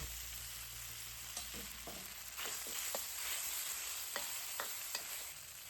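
Pork stir-fries in a little oil in a smoking-hot pan for chow hor fun noodles: a soft, steady sizzle broken by scattered scrapes and clicks of stirring, fairly quiet and without speech.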